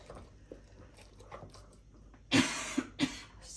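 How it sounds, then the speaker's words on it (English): A person coughing, covered, while making sourdough starter: a few quiet scrapes and taps, then a sharp loud cough followed by two shorter ones close together near the end. "I'm coughing"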